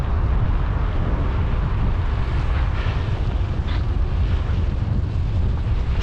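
Wind roars steadily across the microphone while an MTB rides along a cycling trail, a loud continuous low rumble with no break.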